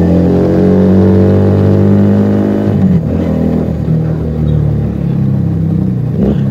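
A Keeway SCR 250V motorcycle fitted with a Mavionic aftermarket exhaust rides past, its loud, rich exhaust note rising as it approaches, dropping in pitch around midway, then revving again as it pulls away; no voices.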